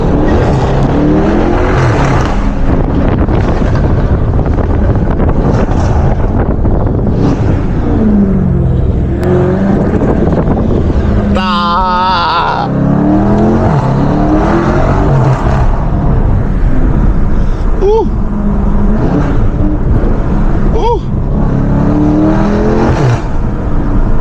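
A 640 hp BMW M550i roars through hard acceleration pulls late at night, its exhaust loud and continuous with rising revs and brief gear-change breaks, recorded from inside the cabin.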